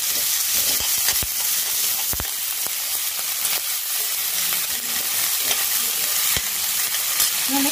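Shredded cabbage sautéing with garlic and onion in a pan, a loud continuous sizzle close by with scraping stirs and a few sharp clacks of the utensil against the pan.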